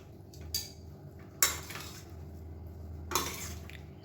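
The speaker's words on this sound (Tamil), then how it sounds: "சாஃப்டாக கிளறி விட்டுக்கோங்க" Cooked ghee rice being stirred in a pot, a few soft scraping and clinking strokes of a spoon against the metal rim, quiet and close with low background hum.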